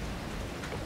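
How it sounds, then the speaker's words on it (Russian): Blood rain pours in the horror game Outlast 2, a dense steady wash of rainfall hiss that fills the short moment with no other sounds. "А вот и кровавый дождь из трейлеров"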